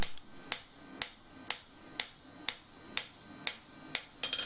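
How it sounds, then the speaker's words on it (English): A hammer forging a steel chef's knife blade, nine sharp metallic strikes at an even half-second rhythm with a ringing tone after each, close and clear, with a quick double hit at the end. "This is going to be the only bit of forging I think that I will do."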